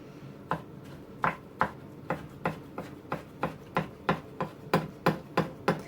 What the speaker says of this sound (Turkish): Arkadaşlar patlıcanımızı da doğruyoruz böyle.